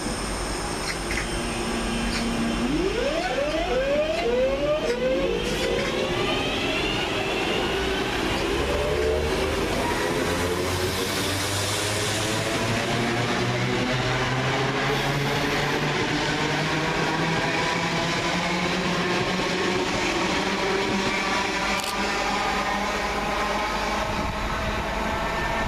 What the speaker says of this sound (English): Getting ready to depart 323-204 and 323-222, working the 1428 West Midlands Railway service from Redditch to Four Oaks